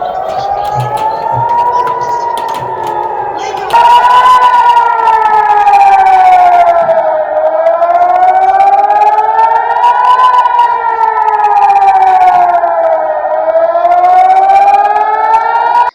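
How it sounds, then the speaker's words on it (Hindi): A loud civil defense air raid siren wails continuously in Israel, its pitch rising and falling in slow sweeping cycles, steady and unbroken throughout. "लगातार सायरन की आवाज गूंज रही है।"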